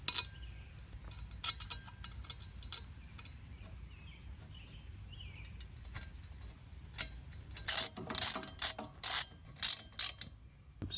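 A ratchet wrench tightening exhaust bolts while an 80cc engine is fitted to a Stinger chopper motorcycle, with a few quiet clicks early, then a close series of rapid ratcheting bursts near the end over a faint steady hum.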